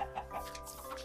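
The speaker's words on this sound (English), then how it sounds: "Chickens!" Chickens cluck in the Minecraft video game: short, soft, repeated clucks over a busy, quiet background of game sounds.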